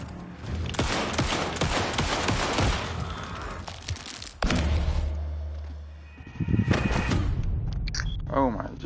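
Gunfire in the Alan Wake 2 video game, a burst of rapid shots and clattering impacts mixed with game sounds, loud and busy, with a person talking over it.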